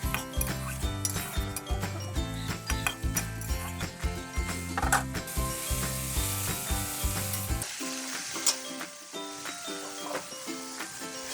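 Small mola fish, already fried, stirred with onions and a little water in a pan, sizzling steadily under loud background music, with occasional clinks of the utensil against the pan.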